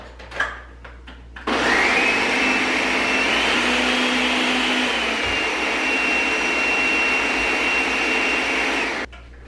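A blender whirs loudly and steadily for several seconds, mixing a plant-based vegan smoothie, starting abruptly after a few faint knocks and cutting off sharply at the end.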